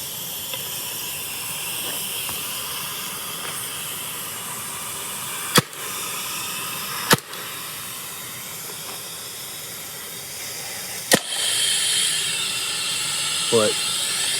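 A 2003 Spyder Xtra paintball marker with a leak fires paintballs in three sharp, loud pops over a steady gas hiss that swells near the end.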